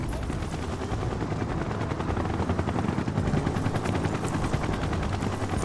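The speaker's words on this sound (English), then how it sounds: "Why do I feel like I know that helicopter?" Helicopter in the video game Final Fantasy Rebirth, a loud, steady rotor roar with rapid chopping pulses filling the whole stretch, no talking over it.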